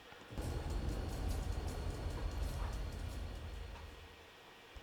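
Low rumbling diesel train passing steadily, a deep engine drone with mechanical clatter, fairly distant and slowly fading.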